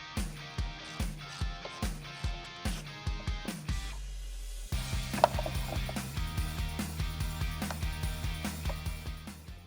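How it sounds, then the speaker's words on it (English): A 10mm socket on an extension ratchets out the bolts holding a headlight housing on a Jeep JL Wrangler or Gladiator, a steady series of faint, regular clicks close by with a brief break midway. "We can now grab a 10mm socket with an extension to remove the 3 bolts holding on our headlight housing."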